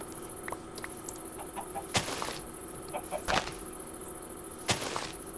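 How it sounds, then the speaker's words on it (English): Chickens cluck repeatedly in Minecraft, a series of short near clucks scattered over a faint steady game ambience, with a few sharper clicks standing out. "You can put those chickens in there, too."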